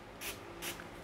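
Two short hissing bursts of setting spray misted from a makeup bottle onto a finger, close and fairly soft, about half a second apart, with no talking.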